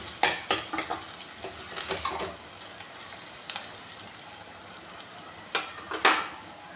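Onions frying in a pan for mixed dal, stirred now and then: a soft continuous sizzle broken by scattered scraping clicks of a spoon against the pan, close by and without speech.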